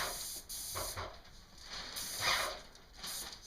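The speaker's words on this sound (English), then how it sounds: "It's good to have adequate ventilation while you're spraying this lacquer." An airless sprayer lays lacquer onto kitchen cabinets in short hissing bursts, close by, separated by brief quiet gaps.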